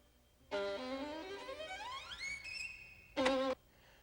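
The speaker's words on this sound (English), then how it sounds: "That was the sound of somebody playing a violin." A violin tone with rich harmonics slides steadily upward in pitch, holds a high note, then a short bright bowed burst ends it.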